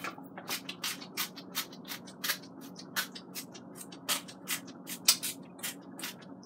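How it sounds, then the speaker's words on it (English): Repeated short hissing bursts of a cooking spray can onto chicken pieces in an air fryer, about a dozen quick sprays in an uneven rhythm, close by with faint handling noises. "Okay, I'm going to spray it again."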